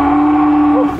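On a horse farm, a Highland Angus cow gives a loud, close, steady moo that holds for about a second before fading.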